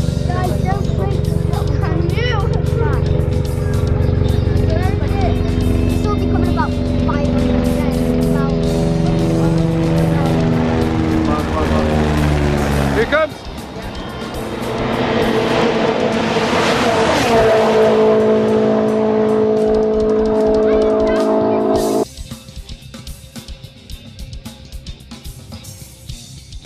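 Rally car driven by Mark Higgins on the Isle of Man TT road course, engine roaring loud and close with rising and falling revs as it speeds past, then cutting off sharply into quieter background with people talking.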